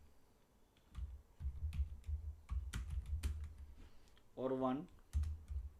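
Keys clack on a computer keyboard as an SQL query is typed, a fast, uneven run of close, crisp taps, with someone talking briefly between them.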